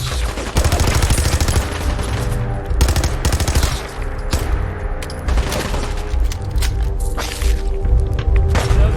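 Rapid bursts of automatic gunfire from a weapon in the video game Fallout 4, loud and dense with sharp repeated shots and thuds nearly throughout, with brief pauses between volleys.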